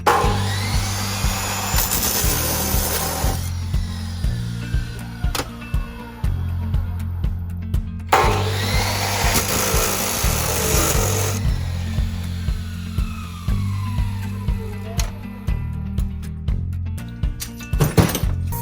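A power saw cuts into a brass pressure relief valve from a water heater, two loud grinding runs each lasting several seconds, with a low motor drone and clattering throughout.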